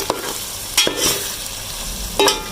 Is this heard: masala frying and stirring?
yes